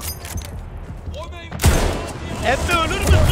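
Weapon fire in Battlefield 1, a sharp broadband burst of shots striking hard at mid-clip and followed by further rattling impacts, heard over a busy in-game battle din.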